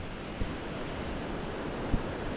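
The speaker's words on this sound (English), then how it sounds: "just listen to the waves" Ocean waves roll against the cliffs of Guam's coastline as a steady broadband roar, with a couple of faint thumps and no talking.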